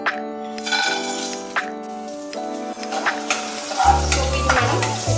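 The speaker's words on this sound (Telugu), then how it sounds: "ఇప్పుడు మనం తీసుకున్నటువంటి ఇంగ్రీడియంట్స్ అన్ని ఆయిల్ హీట్ ఎక్కిన తర్వాత దీంట్లో వేసేసుకోవాలి." Garlic, crushed spices and curry leaves go into hot oil for a tempering for ajwain rice, sizzling steadily while a spoon stirs and clinks against the pan, with a louder burst of frying near the end.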